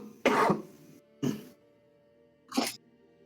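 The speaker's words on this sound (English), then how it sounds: "Sorry about the coughing, guys." Three separate coughs, close and fairly loud, each a short harsh burst with brief quiet gaps between them.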